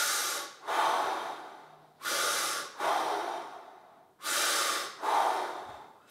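Deep breaths drawn in through the nose during a guided finger and wrist fascia release exercise, three long airy inhales and exhales in a steady slow rhythm, close and fairly loud with no talking.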